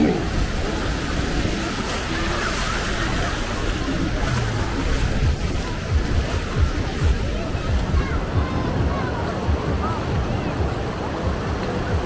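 Ocean waves wash up on a beach at Itapema on a windy day, making a loud, continuous roar of surf with wind buffeting the microphone and voices faintly mixed in.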